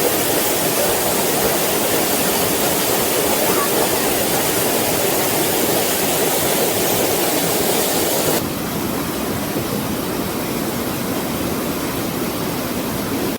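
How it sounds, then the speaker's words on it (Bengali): Melting snow pours down a waterfall at Mount Katao in North Sikkim, a loud, steady broadband roar that fills the whole clip with no talking, dropping slightly in level near the end. "দেখুন বরফগুলো কেটে আর কি ঝর্ণাটা বইছে"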